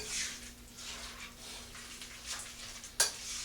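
Tuna salad is stirred in a bowl, producing soft wet squishing and scraping that continues steadily at close range, with one brief sharp click near the end.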